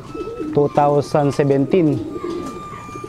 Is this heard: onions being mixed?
no